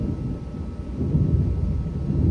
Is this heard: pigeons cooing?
no